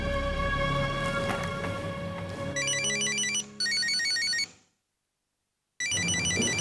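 A synthetic electronic telephone ringtone trills in a repeating high melodic pattern over a background music bed, stops abruptly for about a second, then resumes after the backing cuts out.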